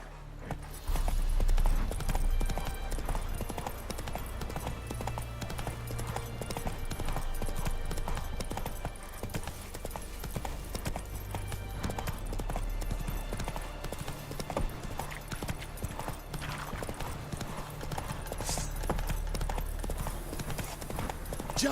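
Roach, Geralt's horse in The Witcher 3, clip-clops steadily throughout at a trotting pace, the regular hoofbeats running over a low droning game soundtrack.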